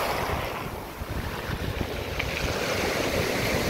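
Sea waves and wind along the shore at Lazarevskoye, Sochi, a constant broad rushing roar of surf with gusty microphone wind, close and loud throughout.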